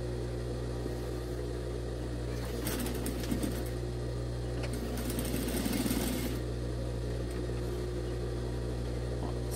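A sewing machine runs in two bursts of rapid, steady stitching, straight-sewing fabric for a double-sided hat, close and clear over a constant low motor hum, with no one talking.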